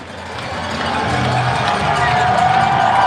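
Hockey arena crowd roaring after a fight between players, a dense, sustained wall of cheering and whoops that builds steadily louder.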